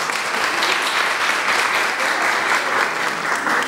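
Steady, dense applause from a crowd at a Women's Day and martyrs' commemoration breakfast program, continuous and fairly loud throughout with no pauses.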